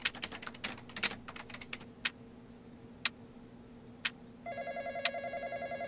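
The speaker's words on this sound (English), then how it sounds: "Looks like we got a call. Answer the phone." A telephone rings in a Roblox barber shop game, with a buzzy repeating ring starting near the end after quick keyboard-like clicks and a few sparse ticks, fairly quiet overall.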